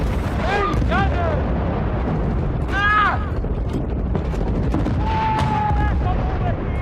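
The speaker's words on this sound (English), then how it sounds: "Grenade! Watch out!" In a Battlefield: Bad Company firefight, a heavy grenade blast rumbles amid continuous gunfire and booming combat noise, loud and dense throughout, with shouted voices over the din.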